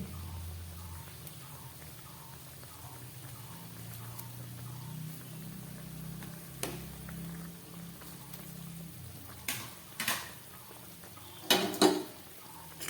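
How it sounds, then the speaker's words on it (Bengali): Fried hilsa fish and eggplant are dropped into a pot of simmering curry, with soft bubbling, a few sharp utensil clinks and knocks near the end, and light background hum. "ভেজে রাখা মাছগুলো দিয়ে দিচ্ছি আর দিয়ে দিচ্ছি বেগুন"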